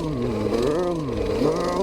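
Coleman BT200X mini bike engine under way as it is ridden, a short burst of buzzing, rising and falling revs heard up close with wavering pitch.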